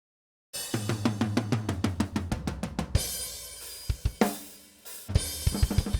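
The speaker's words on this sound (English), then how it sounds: "So together the drums sounds like this." A full 1980s Japanese-made TAMA Rockstar drum kit plays a steady beat with punchy kicks and snare hits, then breaks into scattered fills and crashes before resuming, no voices.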